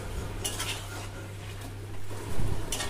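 A utensil scrapes and clinks against a pot as marinated chicken is stirred and fried in spice paste for a chicken biryani with potato and egg, a few sharp knocks standing out over a steady low hum.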